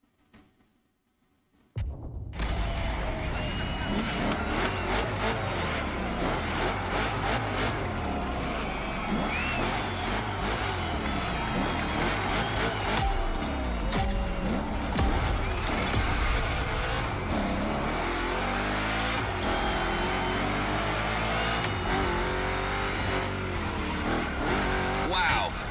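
A big-block Chevrolet Camaro race car roars continuously in the racing video game Motorfest, its engine loud and close and rising and falling through the gears, with tire squeal on the turns and a voice talking over it.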